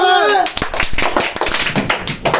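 Hands clap during a lively game, a quick burst of close, sharp claps right after a short stretch of voices, with talk running underneath.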